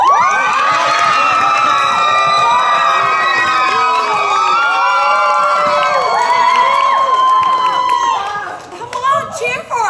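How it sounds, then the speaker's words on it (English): Loud crowd cheering at a school event, many young voices shouting and whooping together in a sustained roar that drops off near the end into scattered calls. "Come on, cheer for us."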